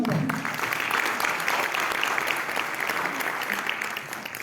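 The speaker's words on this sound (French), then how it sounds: "On applaudit خالتي" An audience applauds steadily, a dense, continuous wash of clapping that holds for several seconds and tapers slightly at the end, at an interview with a Moroccan mountaineering champion.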